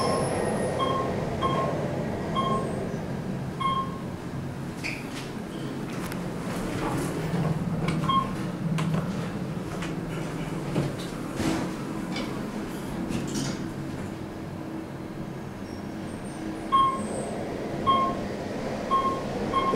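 OTIS high-rise elevator cab at the Westin New York Times Square slowing down, a steady low rumble and rushing hum with faint whines and soft clunks, no voices.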